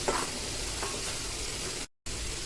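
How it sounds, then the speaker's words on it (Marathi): Continuous dense bubbling and hissing of water at a rolling boil in a pot, steady throughout with a brief dropout near the end. "आता इथं तुम्ही बघू शकताय आपल्या पाण्याला छान उकळी आलेली आहे"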